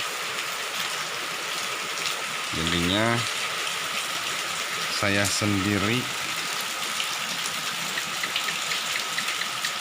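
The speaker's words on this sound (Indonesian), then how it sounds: "Hujannya mulai reda." Light rain is easing off outside a village house at night, a steady soft hiss of falling water heard throughout, while someone speaks briefly in the middle.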